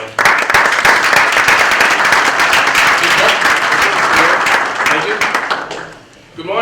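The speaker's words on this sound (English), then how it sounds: "Round of applause for her." An audience at a civic event in Lawrence bursts into a sustained round of applause, dense and loud throughout, with some talk mixed in before the clapping thins out at the end.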